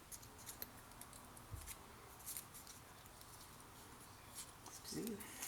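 Scissors cutting thick scrapbook paper, quiet close snips and crisp rustles spread over several seconds at a craft table, with a few soft knocks.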